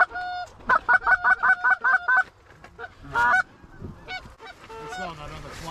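A flock of snow geese honking during a goose hunt, a run of about eight loud, evenly spaced calls followed by scattered further honks nearer and farther, with faint background noise between.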